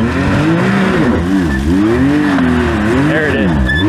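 An off-road vehicle at an ORV park climbs over a bump, its engine revving up and down in wavering surges, loud and close, with people talking over the engine.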